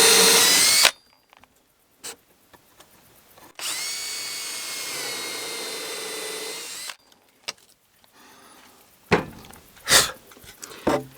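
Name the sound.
power drill drilling holes in wooden floor boards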